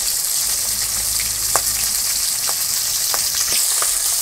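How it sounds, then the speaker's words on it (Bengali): Pangas fish curry with potato and taro bubbles away in a pan, giving a steady, close frying-like hiss with a few sharp pops scattered through it and no voices. "এবারে হচ্ছে মাছটা মনে হয় খুব ফোটে"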